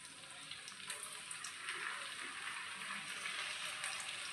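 Chicken pieces frying in butter, a soft continuous sizzling hiss that swells slightly partway through, faint and steady with no talking.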